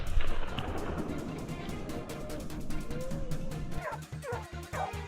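Hunting dogs bark and yip repeatedly outdoors during a wild boar hunt in Texas, the sound coming from a moderate distance as a steady, busy chorus with rustling movement beneath it and no talk.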